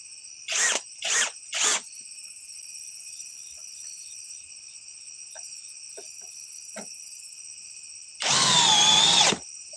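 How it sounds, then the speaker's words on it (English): A cheap power drill whines at high speed in one steady burst of about a second near the end. Three short, loud bursts come first, with faint clicks and a constant high hum between them. "Not a bad drill for what I paid for it."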